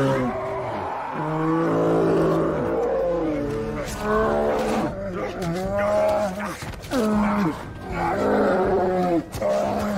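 A bear roars and growls while attacking in the film See, loud drawn-out bellowing bursts repeating in ragged waves over about ten seconds, close and aggressive.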